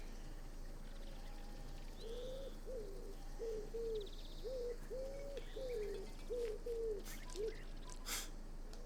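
A pigeon in the wildlife game Alba: a Wildlife Adventure gives a run of about ten soft, rhythmic coos over a faint outdoor ambience, with some chirps from other birds at the end.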